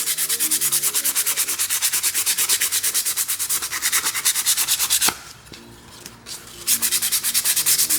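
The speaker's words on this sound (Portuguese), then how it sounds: "À medida que vai gastando a lixa, eu vou pegando novas. E vou reforçar um pouco mais." Sandpaper rubbing back and forth over painted wood to give an aged, distressed finish, a steady rhythmic scraping stroke after stroke, close and loud, with a brief pause near the middle before the sanding resumes.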